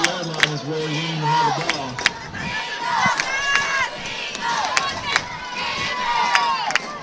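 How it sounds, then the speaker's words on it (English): A loud, vocal crowd of spectators at a 7th grade state championship football game yells and cheers in bursts, with whistle-like shouts and sharp claps punctuating the noisy, excited roar. "A very vocal crowd here."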